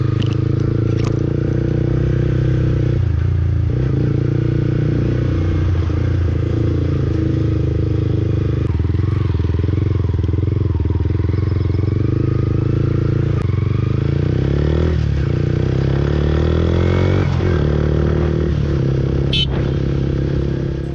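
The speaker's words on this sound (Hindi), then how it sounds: "एक बेसिक राइडिंग साउंड आप लोगों को सुना देता हूं मैं इस गाड़ी का" A Yamaha YZF R15 V3 sport motorcycle engine drones steadily throughout while riding, with a constant low rumble and shifting tonal hum, loud and close, no voices.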